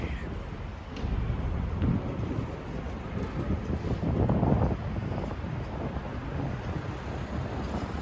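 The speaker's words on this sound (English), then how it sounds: "it's kind of windy right now. It is windy." Wind buffets the microphone in a steady roar with gusts swelling louder toward the middle, a continuous outdoor rush with no clear voices, on a New York City street.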